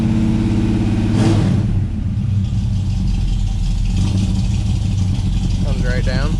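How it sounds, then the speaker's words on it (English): A Plymouth Scamp engine idles high and steady after a cold start, a constant low rumble close by. A voice speaks briefly near the end. "Cold start idle is a little high, but we'll have that, I guess."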